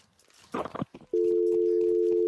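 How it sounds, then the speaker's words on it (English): A phone line drops into a steady, continuous electronic tone after a caller hangs up, starting abruptly after a brief burst of voices and holding loud and unbroken to the end. "I think Quicks has gone off the line"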